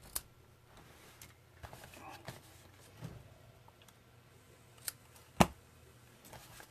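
Scissors trim the ribbon tails on a handmade card, producing a few sparse, faint snips and ticks in a quiet room, with one sharper click near the end.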